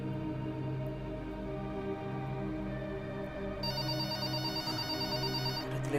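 In the video game Pikabu, a telephone rings with a steady electronic trill; a brighter, higher ring layer joins partway through, all of it without speech.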